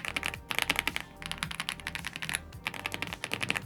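Rapid mechanical keyboard typing, dense bursts of crisp clicky keystrokes with brief pauses between runs, close and fairly loud.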